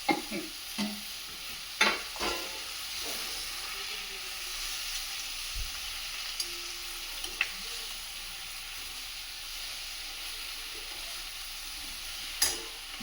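Tomatoes stirred into a frying pan of spinach bhaji, giving a steady close sizzle and hiss with occasional scrapes and clinks of the spoon against the pan, no talking.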